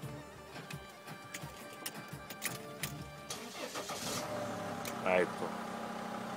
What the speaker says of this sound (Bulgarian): Запали колата, айди. Запали колата.